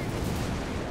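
In Company of Heroes 3, a Bishop self-propelled artillery piece fires. The result is a dense, rumbling boom with a heavy low-end roar that stays steady and fairly loud through a short burst.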